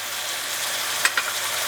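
Minced meat browning in a pan for Bolognese sauce, a steady broadband sizzle throughout with a couple of brief stirring clicks near the end, close and moderately loud.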